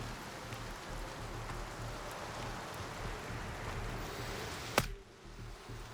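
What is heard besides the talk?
rain at night in video game Gray Zone Warfare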